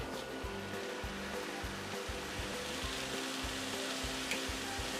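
Tomatoes hit a hot pan for a tomato and green pea pickle and fry with a loud, steady hiss, while soft rhythmic thumps of stirring pulse underneath.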